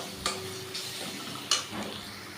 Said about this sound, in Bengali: দেখুন আমি এইভাবে কষে নিচ্ছি মশলাটাকে